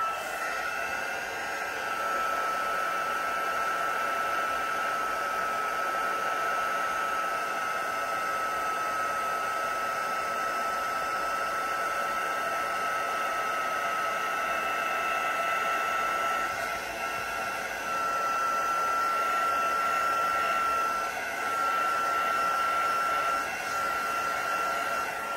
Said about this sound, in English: Dump that in my emboss powder. I'm just going to heat that quickly.